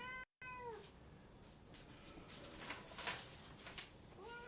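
A part-Siamese cat lets out a series of drawn-out, talkative meows, faint and indoors, with a harmonic cry at the start and another at the end against soft room noise.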